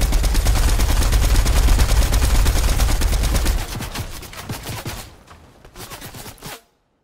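A Spider-Man weapon in the video game Fortnite fires in rapid, dense bursts of loud automatic gunfire, easing off into scattered shots before stopping abruptly.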